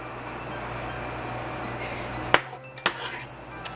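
Metal utensil clinking against a bowl while chopped garlic is stirred into mayonnaise for aioli, a few sharp clinks near the end after a quiet kitchen hiss, no speech.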